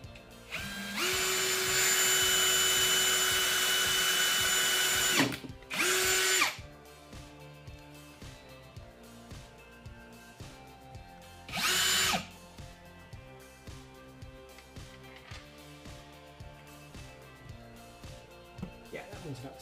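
A cordless Ryobi drill runs with a 3/32 bit, one long loud burst followed by two shorter bursts into a stud, with quiet room noise between.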